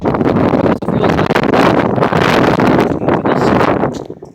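A strong windstorm blows outdoors, with heavy, roaring gusts buffeting the microphone in continuous loud rumbling waves that swell and dip.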